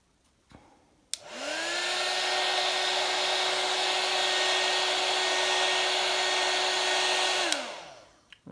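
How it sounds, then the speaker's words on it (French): Heat gun used to speed up the drying of glue on leather car upholstery, switching on with a click into a steady whooshing blower hum that holds for about six seconds before cutting off. "J'accélère le séchage avec le décapeur comme d'hab."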